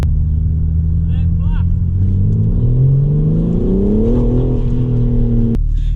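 BMW M4 Competition driving and accelerating, its engine note climbing steadily in pitch through a smooth pull before cutting off abruptly, loud and close, with voices briefly heard over it.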